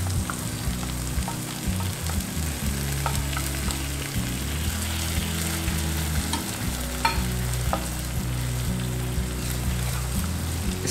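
Milk and desiccated coconut mixture being stirred into onions frying in a pan for an egg curry, giving a steady close sizzle under repeated scraping and stirring strokes, with no talk.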